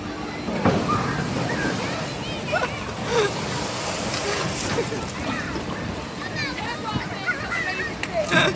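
A water ride splashing down at a seaside amusement park, a continuous rush and slosh of churning water with scattered splashes, heard close and fairly loud throughout.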